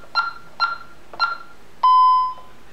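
Honeywell alarm panel arming: three short electronic beeps about half a second apart, then one longer steady tone held for about half a second, clear and close with no talking.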